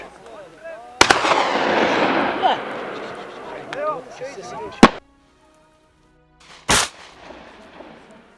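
Sharp, loud gunshots crack out in a ragged volley, with a rumbling echo between blasts, then a brief silence before a final shot.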